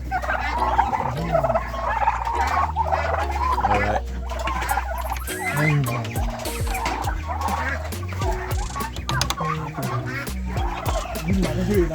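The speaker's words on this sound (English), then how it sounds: "And these here are foreign turkeys." Foreign turkeys gobble repeatedly at a multi-purpose bird farm, their busy, overlapping calls close by and mixed with other fowl noise, while someone speaks briefly.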